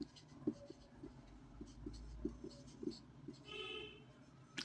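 A pen writes out a math solution on paper, making a quiet, close series of scratchy strokes and taps in an uneven rhythm, with no talk over them.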